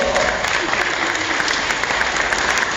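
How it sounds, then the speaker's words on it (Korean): Brief burst of audience applause during a lecture on unification at a Korean community gathering in New Malden, a dense even wash of clapping lasting a few seconds. "박수 한번 쳐주자고 합니다"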